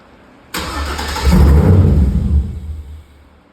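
A 1987 Chevy Monte Carlo engine with a fuel pump kill switch cranks and catches, rumbling loudly and close for about two seconds before sputtering down and dying as the fuel cuts off.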